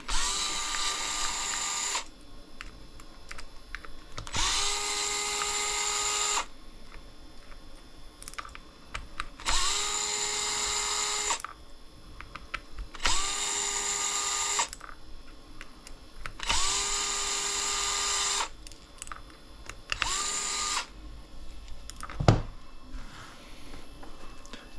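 A cordless power drill backing screws out of a 2.2 RC crawler wheel mounted on a 1.9 Rupture tire, whirring in six separate bursts with short pauses between, close and fairly loud.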